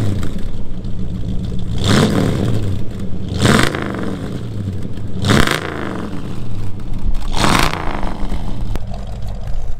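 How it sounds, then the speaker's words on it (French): A 1966 Ford Mustang V8 revs loud and close, with four strong rising blips of the throttle spaced about every two seconds over a steady rumbling idle, plus some mechanical clatter. "il est l'heure de démarrer et d'aller rouler avec cette superbe Mustang de"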